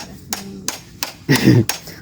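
Hammer blows pound in sharp, evenly spaced knocks, about four strikes over two seconds. The blows are loud and close, with a brief voice breaking in between them.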